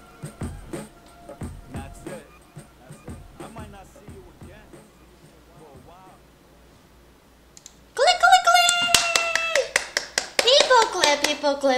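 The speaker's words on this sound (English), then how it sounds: "People clap, nice," Audience clapping bursts in suddenly after a stretch of quieter sound and keeps going loudly to the end, a dense crowd of hands.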